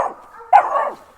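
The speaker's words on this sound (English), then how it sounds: "barking you hear there is the 2 little puppies" Two little puppies bark and yip, a short yelp at the start and then a louder burst of overlapping barks partway through, close and fairly loud with no talking.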